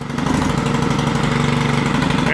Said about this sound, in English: And it kicked into the run position, and it's idling great.